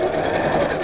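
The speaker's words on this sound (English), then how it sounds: "And we're just going to sew" A domestic sewing machine runs a straight stitch while wrapping piping, giving a steady, close, even mechanical whir for under a second.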